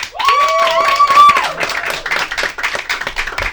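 An audience applauds at an improv comedy café show during a mock Mr. Universe contest. Steady clapping runs throughout, with a brief cheer or whistle near the start.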